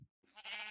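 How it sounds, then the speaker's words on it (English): A Minecraft sheep gives a short, nasal bleat after a brief gap of silence, heard close and alone. "And then more sheep. Lots of sheep."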